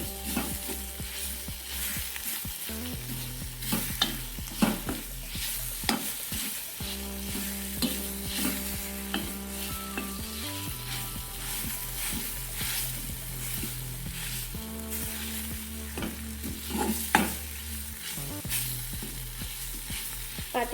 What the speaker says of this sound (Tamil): இந்த மாதிரி வர வரைக்கும் நல்லா வதக்கி விட்டுக்கணும்.